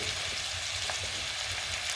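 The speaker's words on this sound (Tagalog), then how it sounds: "dun tayo magigisa ng ating onions at bawang" Onions and garlic sauté in rendered pork fat from lean pork cubes, giving a steady, dense sizzle close up with no voices over it.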